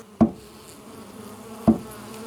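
A steady low buzz from a crowd of honeybees at a small hive hums throughout, broken by two brief knocks, one near the start and one later.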